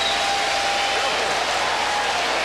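Boxing crowd roaring in steady broadband noise for Zeljko Mavrovic after a round in his fight with Lennox Lewis in Connecticut; a continuous wash of cheering and applause, loud and unbroken, with no distinct voice standing out.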